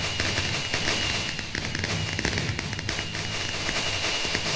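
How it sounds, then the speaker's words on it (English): Minecraft fireworks burst continuously at a New Year celebration in the video game, a dense, loud crackle of overlapping pops and bangs with no pauses. "Yeah, look at all this fireworks going."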